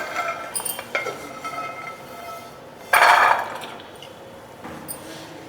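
Roasted pistachios being lifted out of a pan for homemade nut protein powder, heard as a few sharp metallic clinks and scrapes of utensil on cookware, with one louder clattering burst midway.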